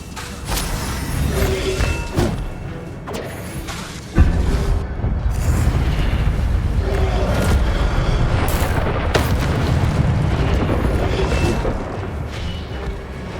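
Incendio fire spells fired during combat in the Hogwarts Legacy video game, with a sharp booming impact near the start of the second third, followed by sustained rumbling, crackling blasts and whooshes that stay loud to the end.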